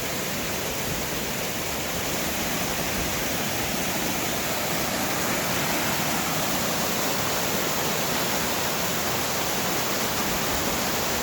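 A 40 ft waterfall and creek in snowy woods near Pittston, Pennsylvania, with heavy water flow: a loud, steady, unbroken rushing roar from nearby, with no other sounds.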